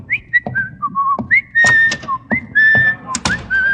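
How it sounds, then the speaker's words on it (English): Someone whistles a series of short melodic notes and chirpy rising phrases, loud and close, with bumps and knocks between the notes and no speech. "I thought you were whistling for me."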